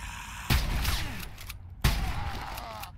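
Two loud gunshot bursts in the horror survival game Nightmare of Decay, about a second and a half apart, each with a sharp attack and echoing decay, with quieter game ambience between them.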